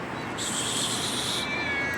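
A short, fairly quiet cat meow, a single drawn-out call over faint background noise.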